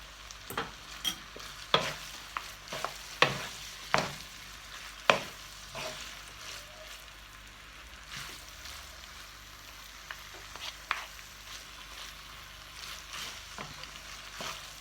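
Noodles being stir-fried for shrimp pad thai, a low sizzle under repeated sharp scraping and clanking of a spatula in the pan, bursts clustered early then sparser, close with no talking.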